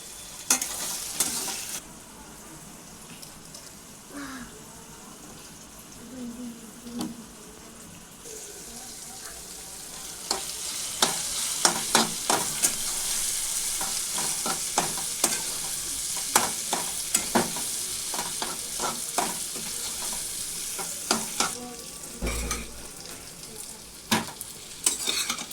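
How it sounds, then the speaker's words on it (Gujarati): Leftover rice is stirred with mustard seeds, salt and spices in a hot pan for a breakfast dish, with repeated scraping spatula strokes over sizzling that grows louder and busier in the second half. "મસ્ત મિક્સ કરી દેવાનું."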